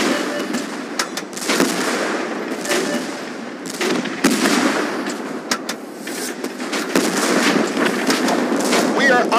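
Artillery bombardment and gunfire in the Tank Force tank battle game with a Type 69ii, loud dense booms and rattling bursts layered over a constant roar, with a voice speaking over it.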